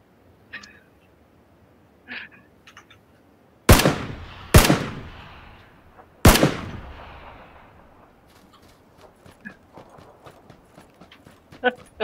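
Three loud, sharp gunshots from the video game PUBG ring out a second or two apart, with soft game noises and a few quieter clicks scattered before and after.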